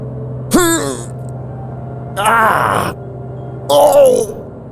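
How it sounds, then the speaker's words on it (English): A video game character in Alluvium lets out three separate pained vocal bursts, strained groans with breathy gasps, each about half a second to a second long, spaced over a low steady hum. "The pain is too much, and I fall back, panting."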